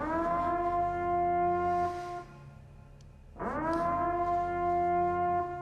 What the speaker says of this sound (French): Ouais, bien flippante la sirène.